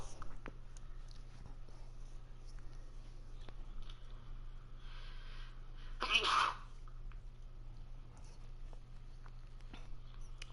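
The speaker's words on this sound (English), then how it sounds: "if you heard me sneeze, then I think the audio is pretty good." A single short sneeze from a person cuts through a quiet room with a low steady hum, one brief burst midway with near silence before and after.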